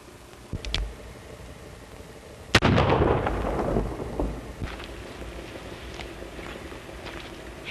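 Gunshots in a 1930s Western film, with a few faint cracks early, then one sharp loud shot followed by a long rumbling echo that slowly fades over a noisy, hissing background.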